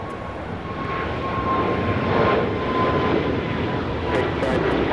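Airliner taking off from runway 25 right at Los Angeles International Airport, a broad steady engine roar that swells slightly, heard from a distance with faint background chatter.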